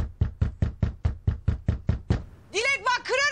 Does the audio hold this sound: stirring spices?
no